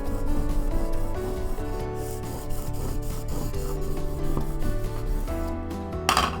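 Cricut vinyl for a DIY memory jar is rubbed smooth from the backing side, making continuous close scraping and rubbing sounds in short strokes, with a louder swipe at the end.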